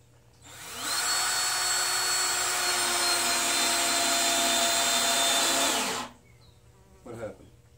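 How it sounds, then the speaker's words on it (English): A power drill drives a screw into the wood of an aquarium stand, whining as one continuous, loud, close burst of about five seconds, then a short faint rattle follows. "And then go ahead and put 4 screws in."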